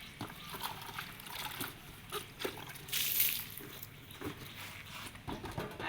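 Lemongrass stalks rinsed under running water, with a soft trickling and sloshing that rises briefly into a louder splash midway, close and fairly quiet throughout.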